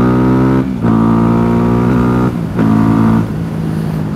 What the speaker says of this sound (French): Ce qu'on entend majoritairement là dans le casque, c'est le bruit de la boîte air qui remonte